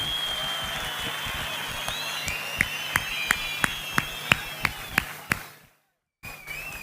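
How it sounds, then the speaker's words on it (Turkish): An audience at a tribute night for the master Latif Doğan applauds, a sustained roar of clapping that turns into about nine loud, evenly spaced rhythmic claps in unison before cutting off abruptly, then resuming faintly. "Şöyle kuvvetli bir alkış benim ustadıma gelsin"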